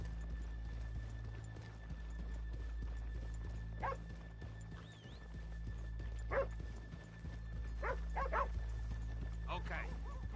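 Horses walking in a PS4 video game, a soft intermittent clip-clop of hooves over a steady low game ambience, with a few faint whinny-like calls and brief barks scattered through.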